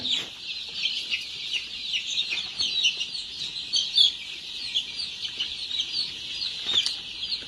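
A crowd of one-week-old Giriraja chicks chirps continuously nearby, a dense, high, overlapping peeping with occasional louder cheeps and no talking.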